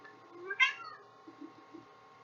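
A cat meows once, a short, clear call close by in an otherwise quiet room, followed by a few faint low murmurs.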